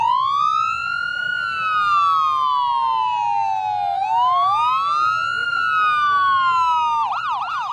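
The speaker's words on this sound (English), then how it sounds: "We can hear the sirens, which means this parade is getting ready to start." Wailing sirens sweep up and down in long, loud glides, then break into a fast yelp near the end, with a faint crowd murmur underneath, signaling the start of an evening holiday light parade.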